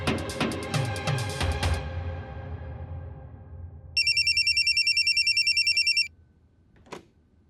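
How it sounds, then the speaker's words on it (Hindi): A telephone rings with a fast, loud electronic trill lasting about two seconds, following a stretch of clattering, ringing impacts that fade out, and ending in a single short click. "रावी, तुम्हारी फ्रेंड का फोन है, सीमा।"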